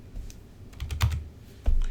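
Keys on a computer keyboard are typed in short, irregular clicks, with a few louder taps toward the end and no talking.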